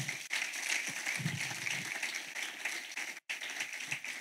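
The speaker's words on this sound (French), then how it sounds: "Acclamez le Seigneur pour cela." A church congregation applauds the Lord with sustained, moderately loud clapping mixed with cheers. A brief drop-out breaks it near the end before the applause resumes.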